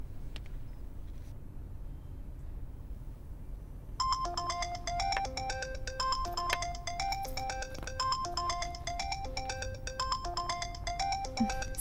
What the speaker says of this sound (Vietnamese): Xin lỗi anh, cho em nghe điện thoại.